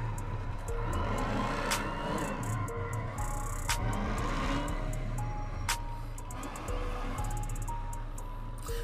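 Dodge Charger Scat Pack Hemi racing a Ford Mustang Boss 302 5.0 GT, a sustained engine drone heard from inside a car, steady and fairly loud with faint clicks and no talk.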